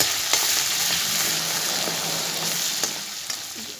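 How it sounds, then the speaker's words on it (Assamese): Ginger-garlic paste frying in a hot pan for a chicken curry, a steady close sizzle with a few light stirring clicks and no talking. "আদা নহৰুখিনি 15-20 ছেকেণ্ডমান ভাজিব লাগিব।"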